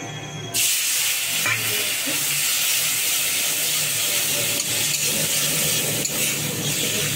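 Water hits a hot pan of fried fennel, cardamom and cinnamon in oil, starting as a sudden loud hiss that settles into a steady, close sizzle of steam with faint stirring.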